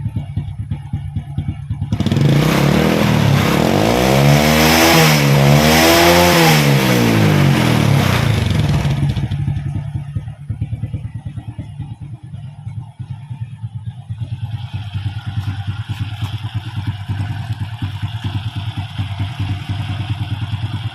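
A rough-running motorcycle engine with a noisy cam chain is revved up, rising to a loud sustained roar with a clattering mechanical rattle, then dropping back to a lumpy idle for the remainder.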